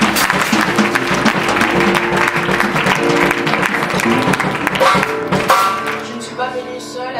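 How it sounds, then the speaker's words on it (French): Audience in a church at a youth day event in The Hague applauding and cheering, dense loud clapping with ringing tones, fading toward the end. "Est-ce que vous pouvez acclamer pour eux ici? Kunnen we klappen?"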